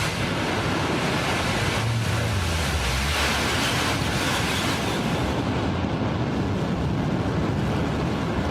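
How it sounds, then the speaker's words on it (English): A deep, powerful rocket engine roar from a New Shepard launch rumbles continuously, loud and unbroken, like a distant launch. "Listen to that engine rumble."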